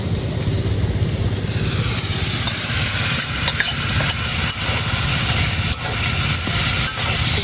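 Boiled taro stolons are stirred into fried masala in mustard oil, a loud close sizzle with repeated scraping and stirring strokes across the pan, no voices present.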